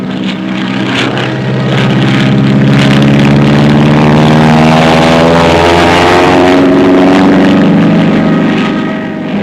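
Steady loud drone of the piston engines of a Grumman F7F Tigercat fighter-bomber, a throbbing propeller hum that holds close and even throughout with no voices.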